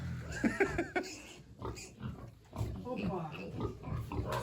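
Piglets grunt softly in short bursts at close range while people talk over them.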